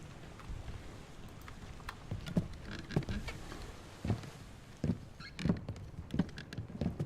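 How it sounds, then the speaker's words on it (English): Steady rain patters in the background of the video game Return of the Obra Dinn, with irregular soft thumps and taps landing on and off throughout. "Oh no, now it's raining."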